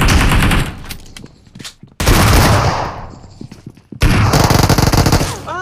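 Rapid automatic gunfire in a PUBG video game fight at Pochinki, loud close bursts of shots separated by brief pauses, with echoing tails between volleys.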